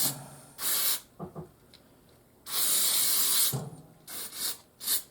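Contact cleaner sprayed from an aerosol can to wash motorcycle oil filter parts on a 2023 KTM 450 XCF, several close hissing bursts, one long and others short, with quiet handling noises between.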